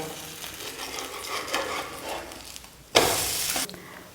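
Flatbread flipped onto a hot pan, a loud burst of frying sizzle erupting suddenly and lasting under a second before easing back to a low background crackle.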